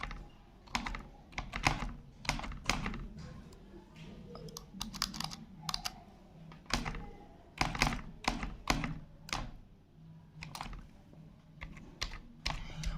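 Keys on a computer keyboard are typed in irregular bursts of crisp clicks and thunks, close and fairly quiet, with brief pauses between runs of keystrokes during a school account login.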